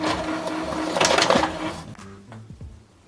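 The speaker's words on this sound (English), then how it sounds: "your printer will produce a page that looks like this" An Epson WorkForce WF-2930 inkjet printer runs a nozzle check page, giving a steady mechanical whir and clatter at close range that grows busier midway, then trails off into a few softer clicks and movements.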